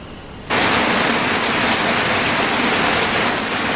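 Rain suddenly begins after half a second and keeps falling as a loud, dense, steady hiss of drops on surfaces, close and continuous with no voices.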